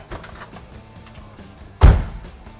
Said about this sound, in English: I wanted you to hear how that door closed